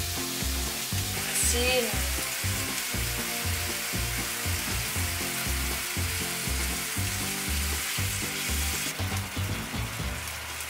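Ground beef fries in a pan with a constant close sizzle and crackle, joined by rhythmic rattling stirs and light clinks throughout, loud and steady with a brief voice at one point.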